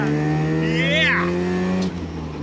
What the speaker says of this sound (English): Just revs and revs. It's only a little NA engine, but definitely packs a punch.